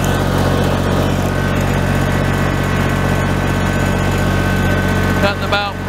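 A Kubota BX tractor with a hydraulic top link runs steadily while mowing grass, its engine droning loud and close throughout, with a voice briefly heard over it near the end.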